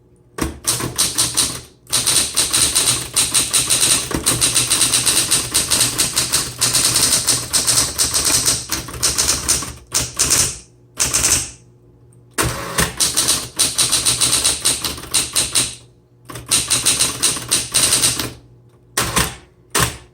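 A 1970s Smith Corona Electra 220 electric typewriter rattles through fast runs of keystrokes, close up and loud, broken by short silent gaps, with the machine's motor humming steadily underneath.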